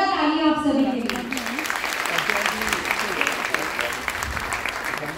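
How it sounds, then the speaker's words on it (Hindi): A short voiced call rings out, then an audience breaks into sustained clapping. The applause stays fairly loud and continuous to the end. "एक जोरदार तालियां आप सभी के लिए।"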